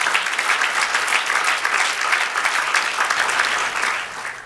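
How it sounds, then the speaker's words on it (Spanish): A church congregation applauds continuously, dense steady clapping filling the space from start to finish with no talk over it. "dale otro aplauso a nuestro Dios"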